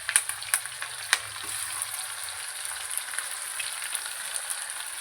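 Onions and curry leaves frying in a pan for upma give a steady, crackling sizzle with a few sharper pops near the start, close and even throughout, with no one talking.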